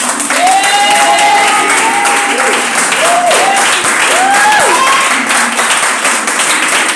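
Loud, sustained applause and cheering from a church congregation, steady clapping throughout with sliding voice-like tones and exclamations rising above the crowd.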